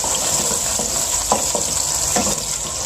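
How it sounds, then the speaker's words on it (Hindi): A steady sizzle of onions frying in a pan until light pink, with a few soft scraping stirs over it, close and continuous. "प्याज को हम लोग हल्का फ्राई करेंगे ताकि ये लाइट सी पिंक कलर की हो जाए।"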